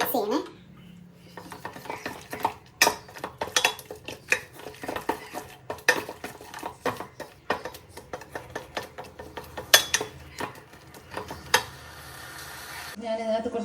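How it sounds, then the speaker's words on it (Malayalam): A spoon stirs dates into payasam in a metal pot, giving a rapid run of sharp clinks and scrapes against the pot. The sound is close and moderately quiet, with no talking. "ഈത്തപ്പഴം, ഇത്രയും കൂടെ ഇട്ട് നന്നായിട്ട് മിക്സ് ചെയ്യണേ"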